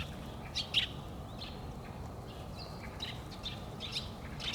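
Pigeons at a playground, with scattered chirps and short calls over a steady low outdoor rumble and a few brief, faint flutters.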